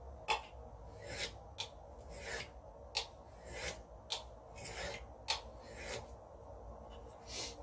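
A burnishing rod rubs along the edge of a card scraper in a quick series of short rasping strokes, about a dozen close scrapes with brief pauses between.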